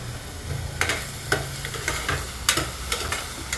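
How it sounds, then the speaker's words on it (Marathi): Onion with salt fries toward golden brown in a pan, a constant close sizzle marked by several sharp scrapes and clacks of a spatula, with no talk. "चांगला गोल्डन ब्राऊन करायचा आहे आपल्याला कांदा, तरी आपण त्यात मीठ टाकलेलं आहे।"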